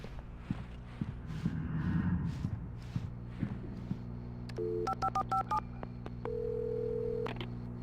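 Footsteps give way to a series of short electronic telephone keypad beeps, followed by a steady tone, in a quiet indoor scene inside a gas station in the video game Alan Wake.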